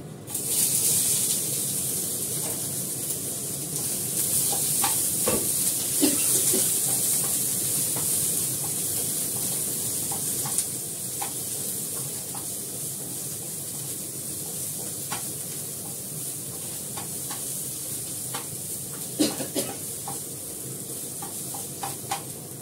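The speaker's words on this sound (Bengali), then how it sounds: "রসুন পেঁয়াজটা দিয়ে দেবো ফোড়নে" Garlic and onion sizzle steadily in hot tempering oil, a loud continuous frying hiss with a few sharper pops and spatters, heard alone without talk.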